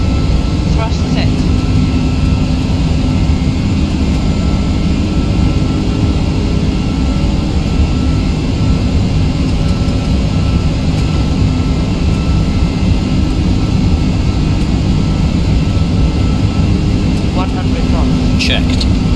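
Etihad Airbus A330 jet engines at takeoff thrust in the Prepar3D flight simulator, a loud steady roar and whine filling the whole stretch, with brief talk over it.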